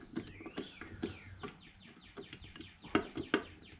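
Wild birds chirp outdoors after rain in Memphis, with quick repeated tweets and rising and falling calls, fairly near, scattered over a soft background and no talking.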